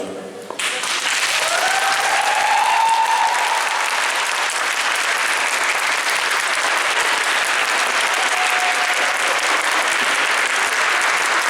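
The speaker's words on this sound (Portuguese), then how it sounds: "a gente dar uma salva de palmas para o professor" A crowd claps steadily and loudly for several seconds, sustained applause with a few faint voices mixed in.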